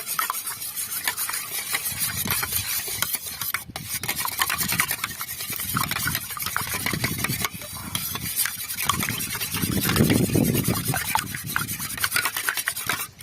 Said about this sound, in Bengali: এভাবে ভালো করে মিশিয়ে নিতে হবে।